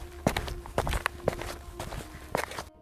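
Footsteps descend stairs as a horror story effect, irregular and fairly soft, each step a dull thud over a faint low room hum, with no voices.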